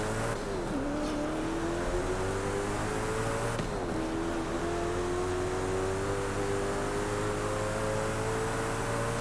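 Koenigsegg CCX, a rear-wheel-drive car in the Forza Horizon 5 racing game, with a steady loud engine drone rising in pitch through the gears, one brief drop as it shifts, continuous and without talk.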